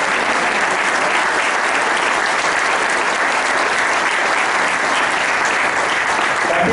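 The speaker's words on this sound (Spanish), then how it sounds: "Así que un fuerte aplauso." A crowd applauds loudly and steadily at a May Day gathering in an ateneo, the clapping filling the whole stretch without letup.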